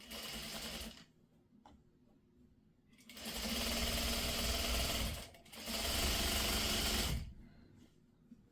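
A sewing machine piecing a scrappy sawtooth star quilt runs in three steady bursts, each a few seconds long, with short quiet pauses between them.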